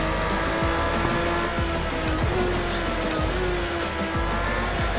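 P1 GTR race car in a racing video game, a loud sustained engine drone with gear changes and repeated tire squeals as it is pushed hard around corners, continuous and close with no talking.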